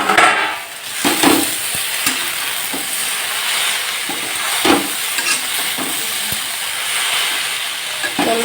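Taro greens with fish head cook in an uncovered pan on a gas stove while being stirred, giving a steady sizzle broken by repeated scraping strokes of the spoon. No one speaks.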